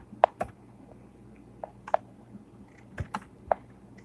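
Sparse, clicky keystrokes on a computer keyboard, several isolated taps spread irregularly across a quiet room with no talking.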